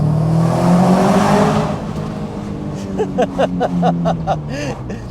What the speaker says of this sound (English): just for the sake of the tunnel, you'll hear the rasp.